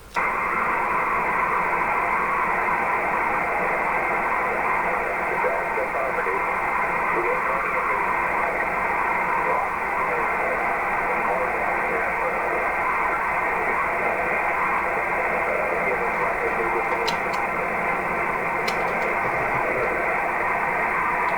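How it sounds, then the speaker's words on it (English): Shortwave radio hiss with a faint, garbled voice sinking in and out of the static, steady noise throughout and a couple of brief clicks. "he took a fade there, David. You were right down in the noise"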